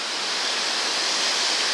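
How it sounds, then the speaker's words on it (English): Yulenski waterfall on a Pirin mountain trail near Bansko, a dense, steady rushing roar of falling water, broad and continuous, heard alone. "that's a waterfall"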